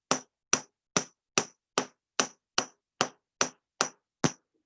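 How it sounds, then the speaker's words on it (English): A hammer strikes a metal stitch marker blank to texture it, eleven sharp, evenly spaced metallic taps ringing out alone at close range. "So I'm going to hammer straight down using this side of the hammer, just like this."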